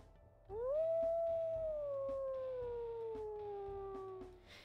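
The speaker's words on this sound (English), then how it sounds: "we'll listen to his howls" A video game wolf lets out a single long, clear howl that rises quickly, holds, then slowly slides downward over several seconds, loud and close against a quiet ambient background.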